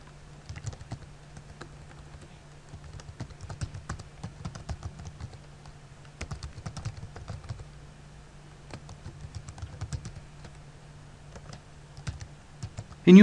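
Typing on a computer keyboard while writing code, steady bursts of close, soft key clicks with brief pauses, ending in a louder thump, no voices.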